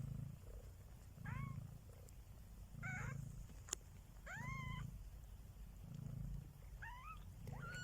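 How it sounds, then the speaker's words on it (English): A mother cat purrs in slow, rhythmic pulses close by, while high chirping squeaks from her kittens, about two weeks old, come and go between the purrs. "I hope you can hear her purring."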